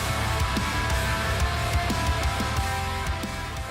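A dense, loud wall of heavy rock: distorted guitars and pounding drums play continuously with steady hits throughout, and no voices can be heard.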